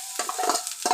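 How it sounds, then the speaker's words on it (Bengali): Mashed green pea paste hitting hot mustard oil with panch phoron in a pan, a close, steady sizzle with stirring scrapes that briefly swell and fade. "এই যে মটরশুঁটি বাটা, সেটা দিয়ে দিলাম, দিয়ে মিশিয়ে নিব সব কিছু।"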